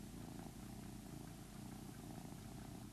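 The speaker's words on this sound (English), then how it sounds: "My cat." A house cat purring steadily, a soft continuous rumbling drone held close and quiet throughout, with no voices over it.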